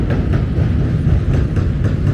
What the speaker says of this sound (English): waiting for the train, everyone.